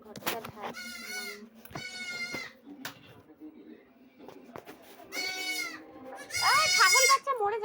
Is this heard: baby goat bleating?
yes